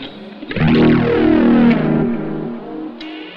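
A heavily distorted electric guitar tone from a Stagg Silveray Nash guitar with the pickup selector in a noisy middle position swells and sustains with buzzing, effect-laden noise, fading out after a few seconds.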